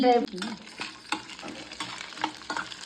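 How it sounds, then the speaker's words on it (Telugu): Dry fruits fry in ghee in a pan, a crackling sizzle broken by repeated spoon scrapes and stirring clatter every half second or so, close and fairly loud. "ఇది ఎవరి డ్రై ఫ్రూట్స్ అయితే ఫ్రై చేసుకోవాలి"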